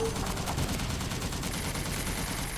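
Artillery barrage in the tower-defense game Toy Soldiers: Cold War, a loud, relentless stream of overlapping gunfire and blasts rolling on without pause.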